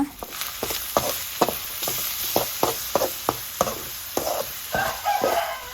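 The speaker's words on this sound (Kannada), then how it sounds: "ಎರಡು ಟೊಮ್ಯಾಟೋನ ಹಾಕಿ ಫ್ರೈ ಮಾಡಿಕೊಳ್ಳುವ." Tomatoes frying in a pan with ginger-garlic paste and curry leaves for a Mangalorean crab sukka, a steady bright sizzle broken by regular scraping stirs of a spoon, close and alone with no talk.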